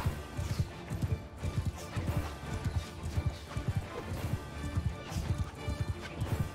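Horses gallop in Mount and Blade II Bannerlord, a steady run of loud, close clip-clopping hoofbeats in a rapid rhythm, with a horse neighing briefly in the mix.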